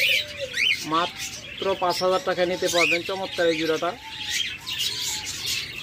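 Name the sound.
pair of pet birds calling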